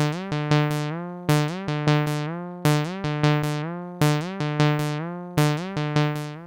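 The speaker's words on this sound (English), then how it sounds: "Finally, press play to play the recorded sequence." Roland SH-101 synthesizer fitted with the Tubbutec SH-1oh1 retrofit, its step sequencer looping a short recorded pattern of plucky, bright notes in a steady repeating rhythm, clear and alone.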